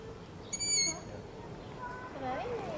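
A long-eared owl calls from its nest high in a tree at the Geitenpark, short high-pitched squeaking notes rising over outdoor background noise, followed by a few fainter calls, with voices murmuring quietly underneath.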